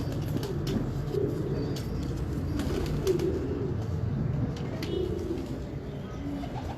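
A female bateri (quail-type) pigeon coos in a low, steady, continuous murmur at close range, with soft rustling and no clear voices over it.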